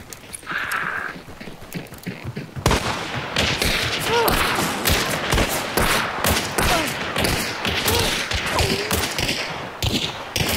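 Gunfire in the game Hunt: Showdown: a rapid string of sharp shots and thuds that starts suddenly and continues in uneven bursts, loud and close, mixed with thumping movement.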